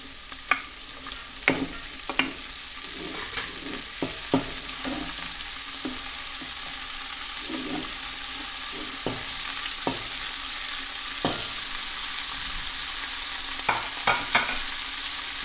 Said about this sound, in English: Saute that just until the vegetables start to soften up.